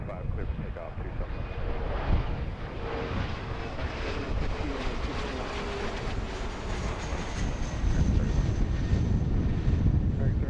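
An American airliner takes off from runway 27 left at Philadelphia airport: a steady, broad engine roar that swells slightly toward the end, heard from a spot near the airfield without talk over it.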